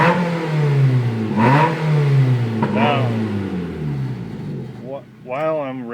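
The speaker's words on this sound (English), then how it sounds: "while I'm revving it, I'll show how it closes, and it'll go completely quiet again." A 2008 Mazda 3 GT with an electronic exhaust cutout revs up and down several times, its engine note climbing and falling in smooth droning sweeps, close and loud, while someone talks over it.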